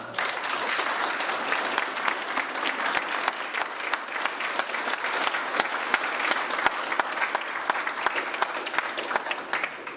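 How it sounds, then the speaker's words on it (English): Closing a debate between Shane Krauser and Dr. John Ray, the audience breaks into a sustained round of applause, a thick wash of many hands clapping evenly throughout at moderate level. "How about a round of applause?"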